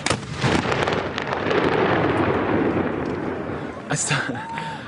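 Loud, continuous booming and crackling from guns or fireworks fired off over a city outdoors, a dense rolling barrage with voices faintly mixed in.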